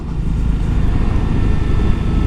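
A single-cylinder 250 motorcycle engine drones steadily up close under engine braking, low and rumbling with wind noise, holding an even pitch throughout as it slows.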